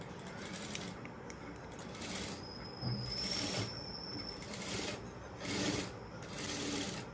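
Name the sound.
sewing machine stitching fabric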